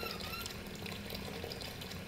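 Water poured from a bucket in a video game, a faint, steady splashing and trickling stream that runs evenly throughout with no voices.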